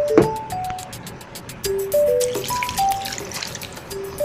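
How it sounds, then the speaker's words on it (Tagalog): Water running and splashing into a metal cooking pot, with a few clanks and tonal clinks of metal, close by and fairly loud. "Lagyan natin ng tubig."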